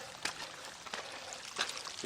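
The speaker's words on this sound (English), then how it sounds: "That sound that you hear is the creek" A small creek running down a flooded hiking trail bed gives a faint, steady trickling and pouring of water, with a few brief splashy bursts close by.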